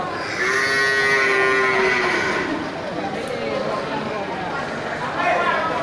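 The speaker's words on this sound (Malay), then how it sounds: "ini sapi Bali semua nih kan" Bali cattle low and moo in drawn-out calls amid a noisy outdoor livestock market background, with people talking nearby.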